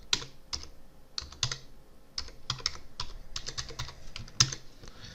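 A password is typed on a computer keyboard in quiet, close, irregular bursts of key clicks, with short pauses between groups of strokes.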